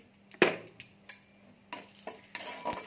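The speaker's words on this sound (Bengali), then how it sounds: "এটা আমি একটু ভেজে নেব।" Bay leaf, slit dried chilli and five-spice frying in hot oil, a soft sizzle with several sharp stirring clinks and scrapes against the pan, fairly quiet and close.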